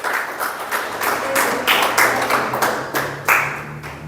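Worshippers at a church service clap together in a loud, rhythmic pattern of sharp, regular beats close by, forming a steady pulse with no one speaking.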